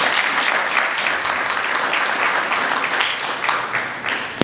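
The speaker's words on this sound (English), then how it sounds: "Please give them a round of applause." Audience applause at a mortgage bank's annual general meeting, a steady, dense wash of many hands clapping that holds evenly for several seconds without pause.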